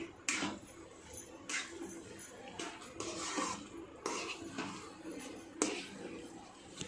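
A ladle scrapes and knocks against a pan while bottle gourd peel curry with gram flour is stirred, in irregular clinks and scrapes at close range, with a voice talking at times.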